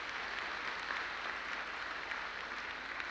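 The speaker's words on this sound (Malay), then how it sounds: "sekali lagi kita berikan tepukan gemuruh kepada yang berbahagia Datuk Naib Canselor" A university hall audience at a vice-chancellor's annual address gives sustained applause, a quiet, even wash of many hands clapping from some distance.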